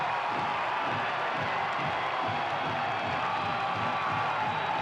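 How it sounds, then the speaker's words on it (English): Stadium crowd at Keyworth roaring after the final whistle of a Detroit City FC win over San Antonio FC, a steady loud wall of cheering with scattered claps and whoops. "Crowd going crazy"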